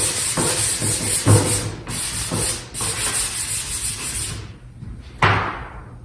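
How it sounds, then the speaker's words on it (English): Repeated rasping strokes of a sanding sponge on an oak cabinet, several back-and-forth passes along the grain in bursts, then a brief pause and a sharp knock near the end. "I'll start sanding in the direction of the grain"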